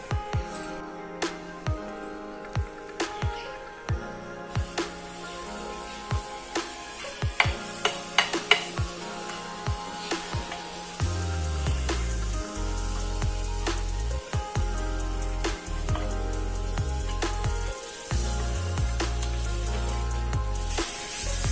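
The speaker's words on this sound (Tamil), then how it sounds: "இப்போ பாருங்க ஆயில் ஹீட் ஆயிடுச்சு நம்ம இந்த மசாலாவை இதுல சேர்த்துக்கலாம்" Masala frying in hot sesame oil on a small stone tawa: sharp utensil taps and clicks at first, then a loud, sustained sizzle with a low rumble and occasional scrapes as it cooks.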